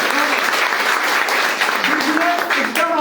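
An audience claps steadily for the Eagle Fund at a product training event, a dense, loud burst of applause lasting a few seconds with a voice faintly heard beneath.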